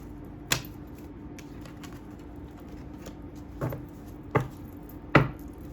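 Cards are flipped during a reading: a few sharp, isolated snaps, one early and three close together near the end, over a faint steady background hiss.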